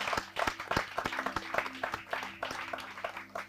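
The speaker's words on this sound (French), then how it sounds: "Est-ce que nous pouvons applaudir pour cette intervention?" A small group claps after a talk at a spiritual workshop, sparse irregular handclaps close by, fairly light and uneven over a low steady hum.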